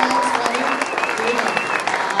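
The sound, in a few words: audience applause for second grade performers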